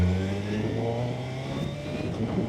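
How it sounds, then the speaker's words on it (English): A Suzuki Hayabusa Gen 3 superbike with a 1340cc engine revs steadily while being ridden, its close, continuous engine drone holding a rising pitch for a few seconds without speech. "Let's get our gear on and let's ride the Hayabusa for the first time ever."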